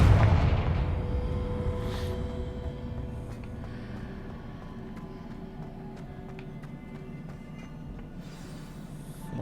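A loud blast from the Confringo spell in the Hogwarts Legacy video game at the very start, followed by a rumbling decay and scattered faint crackles and debris hits.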